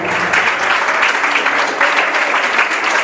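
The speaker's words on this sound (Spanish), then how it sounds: "Da un aplauso al Señor." Steady, dense applause from a large church congregation, loud and continuous throughout with no pauses.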